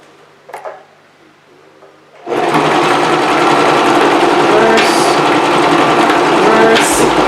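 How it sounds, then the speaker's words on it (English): A sewing machine stitches a hair bundle onto a lace closure wig cap, starting abruptly after a quiet moment and running loud and steady at close range for about five seconds. "I'm going to slide the bundle under the presser foot, pop my presser foot down. Okay, and now we are going to sew."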